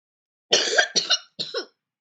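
Three harsh coughs close up, one long then two shorter, with brief pauses between them.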